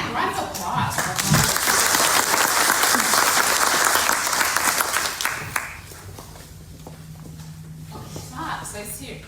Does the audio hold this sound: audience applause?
yes